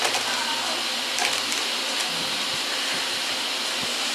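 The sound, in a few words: loud electric fan running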